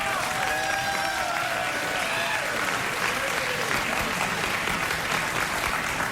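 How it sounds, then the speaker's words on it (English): A television studio audience bursts into sustained cheering and applause at the mention of Oprah's name, a loud, continuous roar of clapping and whoops filling the room. "are we all reflexively programmed in America to cheer when you mention her name?"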